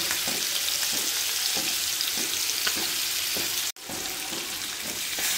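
Fish frying in a pan for a mango fish curry meal gives a loud, steady sizzle with crackling spatters throughout, broken by one brief dropout near the end.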